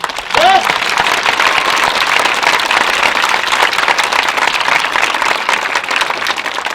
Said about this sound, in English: Another round of applause for the High Point Band.